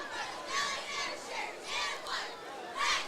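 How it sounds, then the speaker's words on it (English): Cheerleaders and a crowd cheer at a Wilkes-Barre versus Williamsport high school football game, a steady mid-distance chorus of shouting voices rising and falling in several swells. "Cheerleaders are still cheering."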